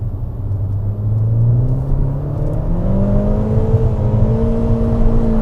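A Fiat Panda Abarth with a swapped turbo engine drives along, its loud steady engine drone rising in pitch as it accelerates through the gears, heard from inside the car with no talk.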